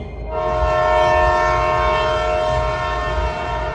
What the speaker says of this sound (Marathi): ट्रेन जवळच पोहोचली होती आणि हॉर्न वाजवत होती.